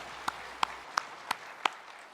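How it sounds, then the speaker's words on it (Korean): A church congregation at a Sunday worship service claps in unison, five sharp, evenly spaced claps in quick rhythm, quiet and distant over a low room hum. "영광의 박수를 하나님께 드리겠습니다"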